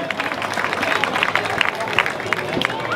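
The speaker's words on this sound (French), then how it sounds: "on peut applaudir Lonis Orcel" Crowd in a bull-game arena applauding a contestant: continuous mass clapping with scattered sharper claps, heard from within the stands, alongside a murmur of crowd noise and a voice over the loudspeaker.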